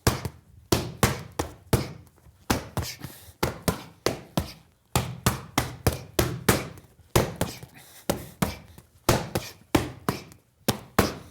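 Boxing counter punches landing during a training drill, a fast, steady barrage of loud, close, thudding impacts in quick clusters with barely any gaps, and no one speaking.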